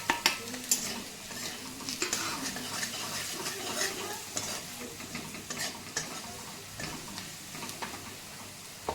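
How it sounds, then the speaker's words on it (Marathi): Ingredients for pulao made from ration rice frying in a pan: a steady close sizzle with frequent spoon scrapes and clinks against the metal as the mixture is stirred, no talking. "आता हे आपण तळू दे."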